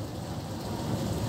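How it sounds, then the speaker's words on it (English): Monsoon rain falling in Lonavla, a dense, steady broadband wash of heavy downpour with a low rumble underneath, continuous and fairly loud, no talking. "enjoying the rains in Lonavla"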